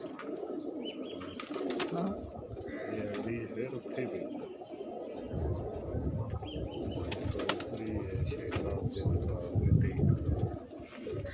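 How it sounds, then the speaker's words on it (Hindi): Pigeons, Ferozpuri-bred birds including females, coo steadily in a rooftop loft, repeated throaty calls close by with occasional wing flutters and voices talking through much of it. "ये 4 कबूतर हैं जी, 3 मादियाँ हैं।"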